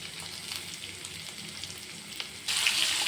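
Onion paste going into hot oil in a karai over fried ginger-garlic paste and whole spices for doi katla; a low, watery crackle suddenly swells into a louder, brighter sizzle near the end.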